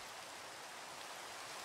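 Rain falls in the Minecraft video game as a quiet, steady hiss of drops without any break, faint and alone with no one talking.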